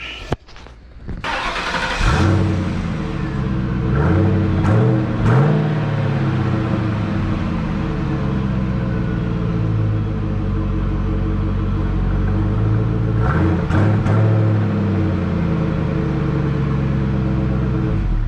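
A 1998–2004 Ford Mustang engine with its stock exhaust cranks and catches, then idles steadily with a low, throbbing rumble, close by and loud, with a couple of brief revs.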